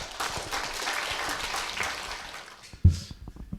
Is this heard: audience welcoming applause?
yes